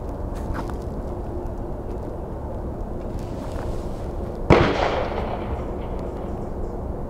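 A single sharp gunshot from a target rifle cracks out at mid-clip against steady outdoor background noise, with a short decaying tail after it.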